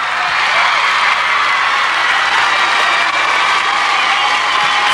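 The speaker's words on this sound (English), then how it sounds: "Applause for them." A concert audience applauding and cheering for a mambo band, a steady, dense wash of clapping and crowd noise heard on its own.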